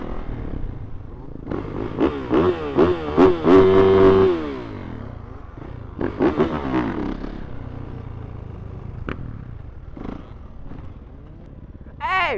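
A KTM supermoto motorcycle engine revs in several sharp bursts, climbing and falling in pitch, with a pause before more revving farther off, mixed with voices and some clatter.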